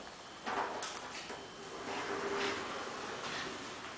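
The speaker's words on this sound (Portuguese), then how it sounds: "Ali é a porta de correr da cozinha." Sliding kitchen door in an apartment rolling shut, a soft rumbling slide with a couple of muted knocks and a gentle thud, quiet and without talking.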